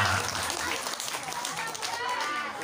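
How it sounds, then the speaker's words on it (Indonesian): Applause from an audience at a Sundanese-language talk, a dense burst of clapping that carries steadily throughout at moderate loudness. "tepuk tangan"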